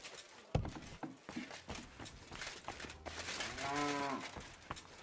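A cow moos in a video game, one drawn-out low call near the end, amid scattered thumps and clip-clop footsteps from other game sounds.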